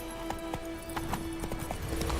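Roach, Geralt's horse in The Witcher 3 video game, gallops in a quick run of rhythmic hoof clops over a steady game music tone, close and moderately loud, no speech.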